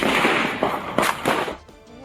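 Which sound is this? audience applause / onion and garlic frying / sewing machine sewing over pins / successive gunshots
successive gunshots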